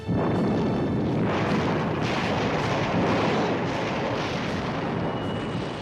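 Dense, continuous roaring rumble of a D-Day naval artillery bombardment, loud and unbroken, with deep booms blending into a sustained wall of noise.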